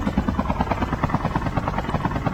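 A helicopter in the video game Call of Duty Mobile keeps up a steady, rapid rotor chop, loud and close, with no pauses.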